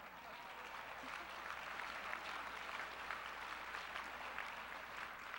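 A pageant audience at Miss Teen USA 2012 applauds an Ernst & Young auditor: dense, sustained clapping from a large crowd, steady and even for several seconds, heard from some distance.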